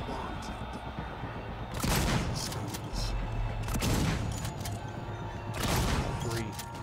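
Several gunshots ring out in Alien: Isolation, three loud bursts spread across a dense, noisy game mix with a steady low hum underneath.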